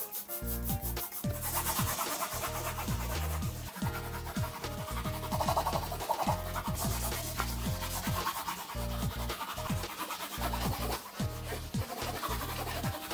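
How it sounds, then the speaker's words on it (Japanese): A bathroom floor is scrubbed with Magiclean cleaner and a scrubbing pad in rapid back-and-forth rubbing strokes that come in steady bursts with short pauses, close and alone. "床をマジックリンと超人たわし Z で洗っていきます"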